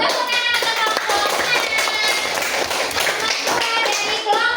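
A group of students gives applause for group 6 during a classroom teaching practice, dense and steady clapping filling the room for several seconds at a fairly even loudness.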